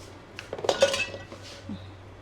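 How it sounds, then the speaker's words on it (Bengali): A utensil clinks against a bowl while eggs are beaten with salt, a short burst of close metallic taps and scrapes that fades to quiet kitchen background. "ডিম লবণ দিয়ে আগে মেখে নেব।"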